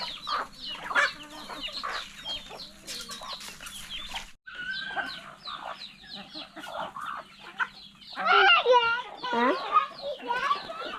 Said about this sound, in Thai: นี่ไงนี่ไก่กำลังกินข้าวโพดอยู่หรอ